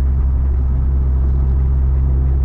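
Vauxhall Cavalier car cruising on a snowy Scottish motorway, heard from inside as a loud, steady low engine and road rumble with no voices.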